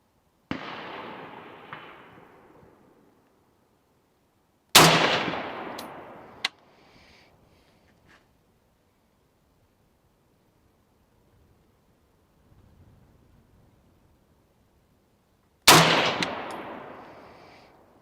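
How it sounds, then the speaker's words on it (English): Three separate rifle shots from a DSA Gen 2 battle rifle at a range, each a sharp loud crack with a decaying echo, spaced several seconds apart, with quiet in between. "After I got the zero complete, I fired a 3-shot group"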